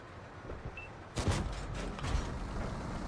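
Tank cannon fire from the Progetto M46 in the video game World of Tanks, a quiet stretch broken by a sudden sharp cannon blast with a rumbling tail, then a second softer boom about a second later.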